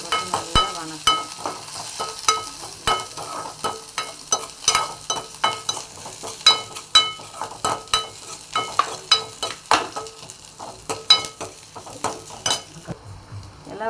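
Dried red chillies and curry leaves sizzle in hot oil for a Kerala-style moru curry, with frequent sharp spoon scrapes and stirring clatter against the pan, close and clear with no talking.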